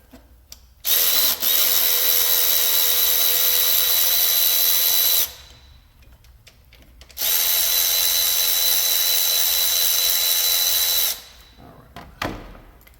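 Pneumatic or power tool spinning off Ecotec valve cover bolts on a blown engine, two long loud high-pitched whirring bursts of several seconds each separated by a quiet pause, with a short ratcheting tail at the end.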